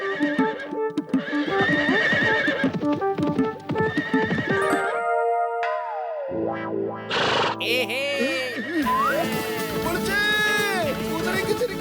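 A cartoon horse neighs and whinnies in loud, effect-laden bursts between rhythmic clip-clop hooves, with a sliding synthesized tone and bright musical sweeps mixed in.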